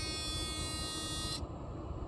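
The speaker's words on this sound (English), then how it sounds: "Okay, you can hear the warning buzzer." A 1992 Mercedes 300E warning buzzer drones high-pitched and steady for over a second, then cuts off, leaving a low engine-like hum of the blower motor on low speed running underneath.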